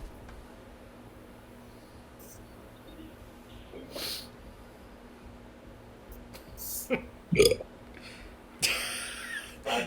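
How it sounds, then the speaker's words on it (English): A short guttural burp from a video game character follows a stretch of near silence, a single low croaking belch rising out of faint room hiss with a couple of brief breathy noises nearby. "Just awkward silence and then a burp."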